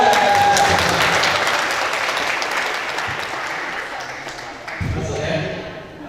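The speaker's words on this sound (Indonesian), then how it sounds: "Tepuk tangan dulu." Audience applause welcoming a guest speaker to a university guest lecture in communication studies, broad sustained clapping that slowly fades, with voices murmuring underneath.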